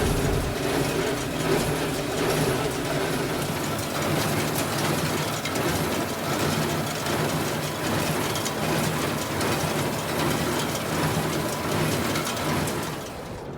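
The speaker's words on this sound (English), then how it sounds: "We're square baling hay in a tornado warning" A square baler bales hay in a field, a steady dense mechanical rumble and clatter running loud and unbroken throughout, fading slightly at the very end.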